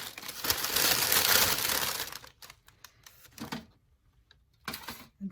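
Paper holding dried chives crinkles and crumples loudly as it is folded up, a dense rustling burst followed by several shorter, sharper crackles with quiet gaps between.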